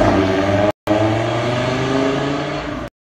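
An Audi RS3 tuned to 600 horsepower revs hard with a loud, sustained engine roar close by, briefly cut off once, then holding steady before stopping abruptly.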